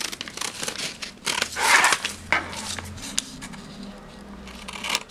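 Scissors cut around a paper sewing pattern being corrected with a French curve ruler, giving close crinkling paper rustles and snips in irregular bursts with no talking.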